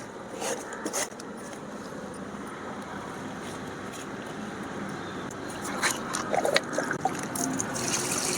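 A steady, soft trickle of water runs onto marigold plants in a terrace garden throughout with faint background noise, swelling a little toward the end.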